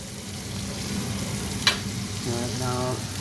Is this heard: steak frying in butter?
yes